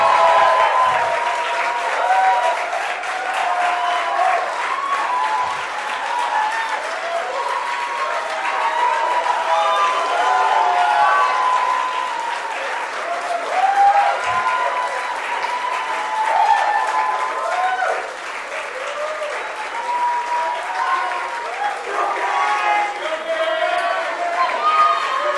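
Sustained, dense applause from a graduation ceremony audience fills the hall, steady and loud throughout, with a crowd murmur beneath the clapping.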